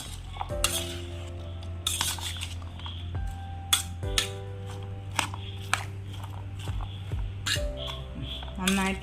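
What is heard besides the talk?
mixing the weight-loss recipe ingredients in a bowl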